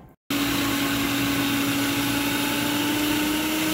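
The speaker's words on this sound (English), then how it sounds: "Insert onion into the food processor." A food processor chopping onion starts abruptly after a brief quiet moment and runs as a loud, steady motor whir with a constant hum, close and uninterrupted to the end.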